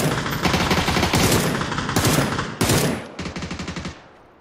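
Rifle fire in a video game rings out in loud, rapid bursts of close automatic shots, several sustained volleys with short breaks, ending in a quicker run of separate cracks before fading.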